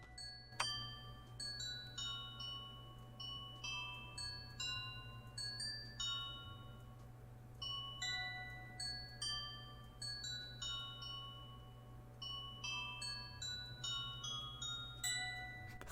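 A bell tower in a survival video game chimes a continuous melodic peal, bright overlapping bell tones struck in a steady rhythm over a low sustained hum, with no talking.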